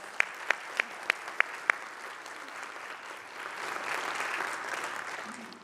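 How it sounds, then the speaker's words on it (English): An audience applauds during an organ-builder presentation, opening with several loud, evenly spaced sharp claps before settling into a steady, moderate wash of clapping that swells slightly toward the end. "You would give them a round of applause."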